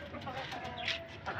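A hen clucks briefly in a backyard poultry pen kept alongside ducks, a few soft, close clucks with quiet background noise.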